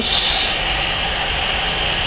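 A Honton T300 hot air rework machine blows on a PS3 Slim RSX chip to lift it, giving a loud, steady, airy hiss with no breaks, heard alone.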